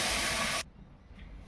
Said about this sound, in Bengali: কড়াইয়ে জল দিয়ে দিচ্ছি